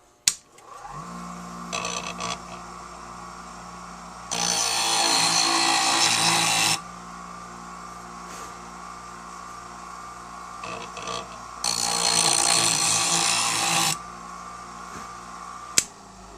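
Lathe chisel being sharpened on a grinder, with two long loud bursts of abrasive grinding over a steady motor hum, separated by quieter lighter touches against the wheel.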